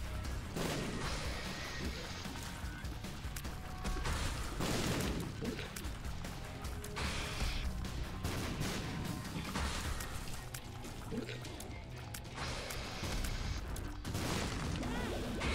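Dense, continuous bursts of booming explosions and blasting attacks fill a boss fight in The Binding of Isaac, loud and chaotic with little pause, layered over game music.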